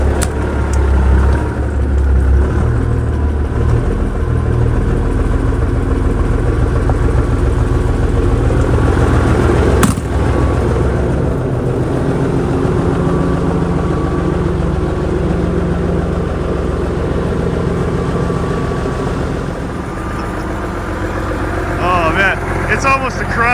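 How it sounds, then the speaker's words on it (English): A Peterbilt 359 truck parked outside in the snow idles steadily, its deep, loud diesel rumble continuous and close throughout, easing slightly lower toward the end. "Alright, we'll idle her up a bit."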